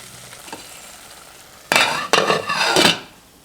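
A lid is set onto a cooking pot of black-eyed pea curry, giving a few sharp metallic clanks and rattles in quick succession that ring briefly, close and loud after a quiet stretch.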